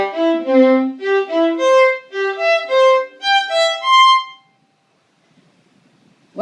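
A bowed string etude phrase is played in steady groups of three notes, each group a long note followed by two short ones, clear and close for about four seconds before silence and a faint brief sound at the end.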